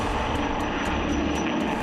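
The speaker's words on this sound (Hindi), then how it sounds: "पहले स्वागत के लिए रूस का सुखोई उड़ा" A Russian Sukhoi jet flies past as a steady, loud broadband roar that holds without a break through the whole short stretch, with no talk over it.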